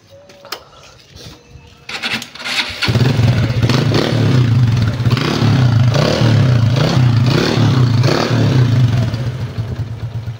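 Honda Wave 125 motorcycle fitted with a chicken pipe exhaust starts after a few clicks and clatters, then idles loud and close with a rhythmic, pulsing exhaust beat and a few blips of the throttle.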